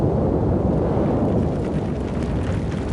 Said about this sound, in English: Red-hot lava erupts from deep within the earth, exploding high into the sky in fiery displays.